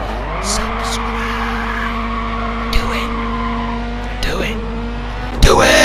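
A rally car's engine holds a steady drone on the final lap of a Dirt game race, with tyres skidding and a few sharp knocks, all heard without talk.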